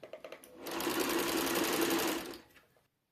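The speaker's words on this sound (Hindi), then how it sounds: "जब तक मैं इसको सिलाई कर रही हूँ आप लोग लाइक कर देना।" A sewing machine stitches a sari for a five-year-old child, sewn from a flower-print sari: a few light clicks, then a steady, close mechanical whirr for nearly two seconds that winds down and stops.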